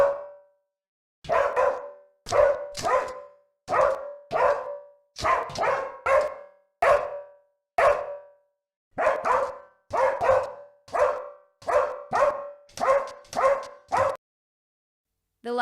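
A single dog barks repeatedly indoors in a room with poor acoustics, loud and close, in an uneven rhythm of about fifteen sharp barks separated by short pauses, with a brief silence at the start.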